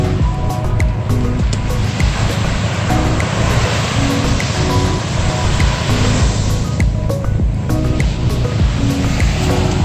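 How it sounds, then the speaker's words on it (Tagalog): Strong sea waves surge and crash continuously onto the shore at Iba, Zambales, a loud, steady roar of surf close by with no voices. "Oh, lakas ng alon."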